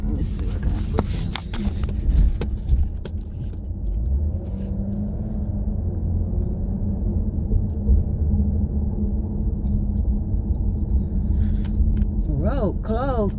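A car rolls along back roads, giving a steady low engine and road rumble throughout, with someone talking over it inside the cabin.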